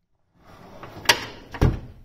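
A Mac Tools Macsimizer 88-inch tool box drawer sliding on its runners, ending in two distinct metallic thunks about half a second apart, close and clear with no talking.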